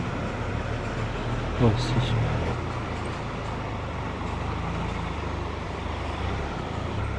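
Triumph Tiger motorcycle riding through a Spanish desert, a steady close engine drone and wind rumble holding at an even level, with a brief spoken remark early on.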